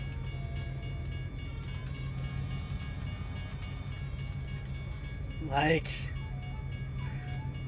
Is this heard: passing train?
yes